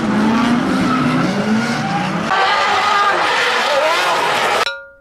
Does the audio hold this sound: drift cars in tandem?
yes